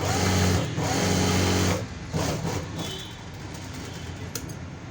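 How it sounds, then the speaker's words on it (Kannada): A sewing machine stitches a princess-cut blouse in a fast, steady mechanical whir. The run lasts a couple of seconds, then breaks into shorter, lighter bursts of stitching, close up with no talk. "ಈ ರೀತಿ ಫಿಟ್ಟಿಂಗ್ ಸ್ಟಿಚ್ನ ಹಾಕ್ಕೊಂಡು ರೆಡಿ ಮಾಡ್ಕೊಳ್ಬೇಕು"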